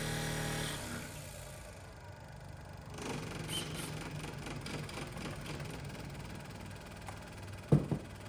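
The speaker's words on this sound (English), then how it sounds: "And now the reversing sounds are on." A steady mechanical engine hum with a faint rhythmic whine, the reversing sound effect of a Tamiya Grand Hauler RC truck, close and continuous, ending in a couple of sharp clicks.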